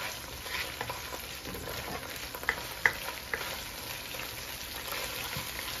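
Tomato paste frying in a pot for goat curry, a soft continuous sizzle with occasional small pops and crackles, quiet and close with no talking.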